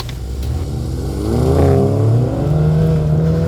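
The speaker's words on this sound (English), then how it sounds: "The engine springing into life with an evocative exhaust chortle." A 2020 Mini John Cooper Works GP engine revs up with a deep, throaty exhaust note that rises and settles into a steady rumble, loud and close.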